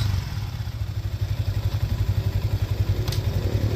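A motorcycle ridden by a learner on the third day of riding practice, with clutch and throttle eased out gently, gives a steady, close, low engine putter with even rhythmic pulses.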